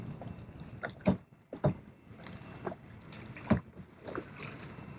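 Paddles dip and pull through water beside a small boat at anchor, giving several soft, irregular splashes and strokes over a low wind hiss.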